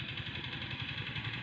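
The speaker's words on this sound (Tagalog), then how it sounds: "5 years na itong motor ko" A five-year-old Honda XRM 125 motorcycle with a carburetor idles steadily, giving a continuous close, even engine rumble with a fast low pulsing throughout and no other sounds.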